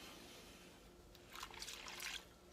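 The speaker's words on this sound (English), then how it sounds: "you want to get all the bark wet without adding so much water that things get diluted" Water trickles faintly onto Mimosa hostilis bark in a container, a quiet steady pour that grows a little louder and splashier midway before easing off.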